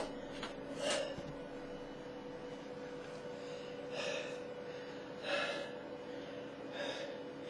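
Heavy, labored breathing from someone out of breath after a workout, with loud gasping breaths repeating roughly every one to two seconds, close by and alone with no talk.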